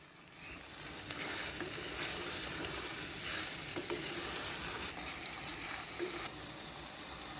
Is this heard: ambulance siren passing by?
no